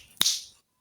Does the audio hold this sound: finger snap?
yes